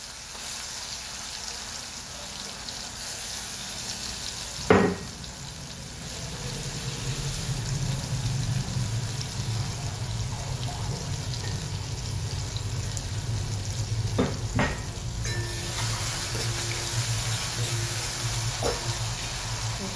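Crushed garlic and chilies drop into hot oil in a pan and set off a steady sizzle that holds for the rest of the stretch, with a few faint clicks over it and no speech.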